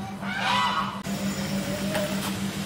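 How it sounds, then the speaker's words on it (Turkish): A loud, close honking call from a duck at a zoo sounds twice, nasal and harsh, with a low steady hum underneath. "Bu ne arkadaş? Ördek."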